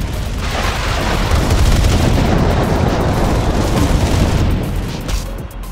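Airstrike explosions and gunfire in the Tacticool mobile shooter, Phoenix Arena mode: a dense, loud, continuous barrage of rumbling booms and crackling shots filling the whole stretch, easing slightly near the end.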